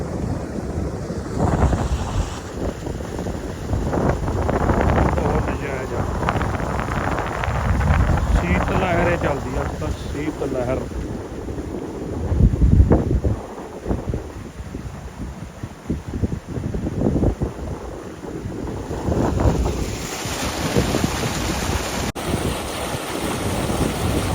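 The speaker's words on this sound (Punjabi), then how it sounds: "ਬਹੁਤ ਤੇਜ਼ ਹਵਾ ਚੱਲਦੀ ਆ" Strong wind roars and buffets the microphone in uneven gusts outdoors in a wheat field, rising and easing throughout.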